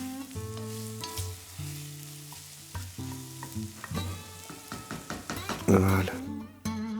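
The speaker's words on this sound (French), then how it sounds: "on enlève tout pour pouvoir faire revenir l'oignon et l'ail" Onion and garlic sizzle steadily as they sauté in a pan for a spring lamb navarin, a continuous close frying hiss lasting throughout over a tonal background.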